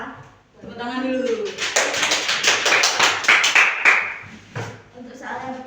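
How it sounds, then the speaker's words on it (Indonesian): Schoolchildren clap together in a classroom, a short burst of rapid claps mixed with children's voices and chatter. "Tepuk tangan dulu."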